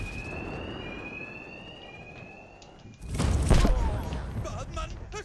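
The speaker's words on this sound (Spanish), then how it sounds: "Los matones de dos caras no me oirán con la alarma." A steady electronic alarm rings in the Batman: Arkham Knight video game, a sustained wavering tone at moderate level, then loud thuds and scuffling game noise take over partway through as voices shout.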